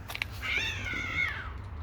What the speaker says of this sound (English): Stupid cats.